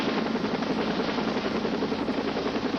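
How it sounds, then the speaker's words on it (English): A medical care flight helicopter arriving at a pool rescue scene, its loud continuous rotor roar and whine steady and close throughout. "the medical chopper arrived to transport her to the hospital"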